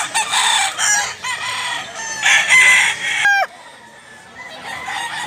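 A Bullstag fighting cock crows loudly and close by, one long cock-a-doodle-doo with clucking around it, then quieter farmyard background.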